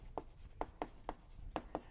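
Chalk or marker writing on a board during a biology lecture on onion stem structure, a quick series of soft tapping strokes at an uneven rhythm, faint and close, with no speech.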